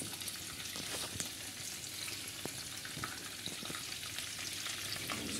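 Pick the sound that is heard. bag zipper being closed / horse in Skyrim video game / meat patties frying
meat patties frying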